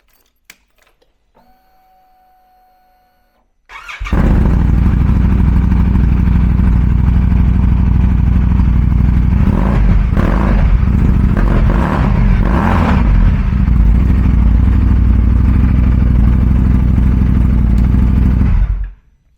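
A 2025 Indian Scout motorcycle with an S&S Grand National slip-on exhaust fires up after a few faint clicks, then idles and revs loudly and close with a deep rumble for about fifteen seconds before shutting off.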